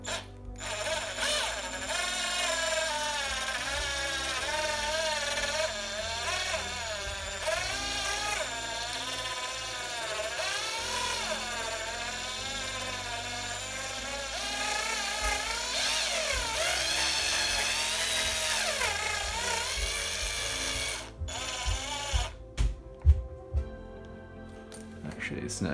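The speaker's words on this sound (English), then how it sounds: "And then just spinning the drill with this in here." A power drill spins continuously while being used to repair a Pro-Line PRO-MT 1/10 4x4 RC monster truck, a close whirring whine with rising and falling pitch that cuts off near the end, followed by a few clicks and taps.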